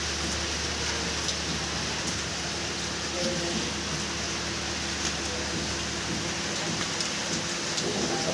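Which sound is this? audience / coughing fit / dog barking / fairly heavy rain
fairly heavy rain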